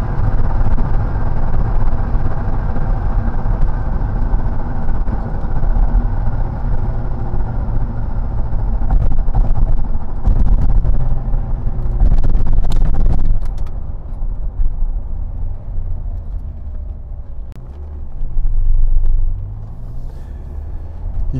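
A 1996 Lotus Esprit V8 sports car drives with a loud, continuous engine rumble heard from inside, holding steady and then rising again as it accelerates out of a curve, with no talking.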